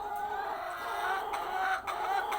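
A sick chicken, one that has stopped laying eggs, clucks in a series of close, moderately loud calls, with short pauses between the repeated notes.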